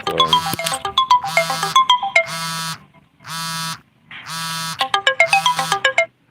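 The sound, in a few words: phone notification announcing a live stream starting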